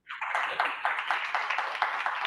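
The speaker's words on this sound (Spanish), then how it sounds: "¿Y cuántos le damos un aplauso al Señor?" A church congregation claps in praise, a dense burst of hands starting abruptly and holding steady with a loose rhythmic pulse, fairly close and loud, no voices over it.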